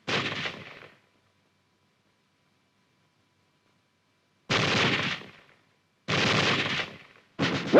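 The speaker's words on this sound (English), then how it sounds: "Weapons giving automatic fire will fire continuously as long as pressure is applied to the trigger or until the ammunition is exhausted." Automatic weapon fire in three separate bursts: a loud one at the start, then two more after a long silence, each a dense sustained stretch of rapid shots.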